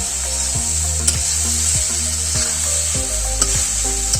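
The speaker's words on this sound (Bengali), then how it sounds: "আবার নাড়তে হবে, এটা হালকা আছে নাড়লেই সব থেকে ভালো হবে।" Drumstick (sajna) pieces frying with spices in a pan, stirred by a utensil: a steady close sizzle with regular scraping strokes against the pan, each stroke landing about every half second.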